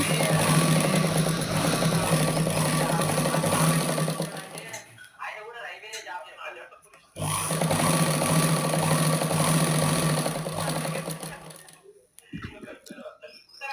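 A sewing machine runs loud and close, stitching thread in two sustained bursts separated by a pause, a rapid buzzing rattle that stops and restarts.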